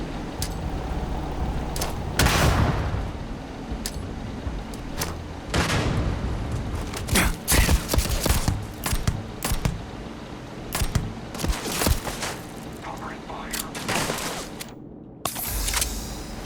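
Heavy weapon fire in the space game Starfield, a series of sharp, loud shots in irregular bursts with impact thuds between them, set against a dense game soundscape with no talking.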